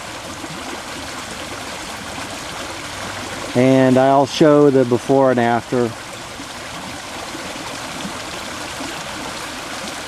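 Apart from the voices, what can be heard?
sediment-laden water flowing from a culvert into a creek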